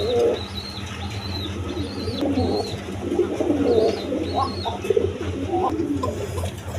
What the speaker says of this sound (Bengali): এখানে এক পেয়ার অ্যারাবিয়ান কোকা কবুতর আছে। দেখেন ওই যে মাদিটা ডাকতেছে